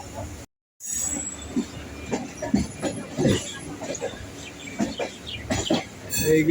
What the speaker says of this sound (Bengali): আর এটা লোকাল ট্রেন আর এক্সপ্রেস ট্রেন।